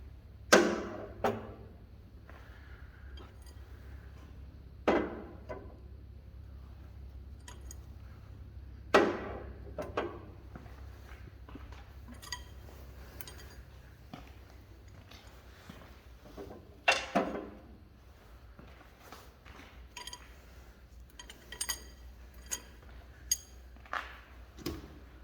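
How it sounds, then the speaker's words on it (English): Metal push rods are pulled one by one from a Caterpillar RD-4 engine, giving sharp metallic clinks and taps spaced a few seconds apart over a low steady hum. "Let's go ahead and pull the push rods out."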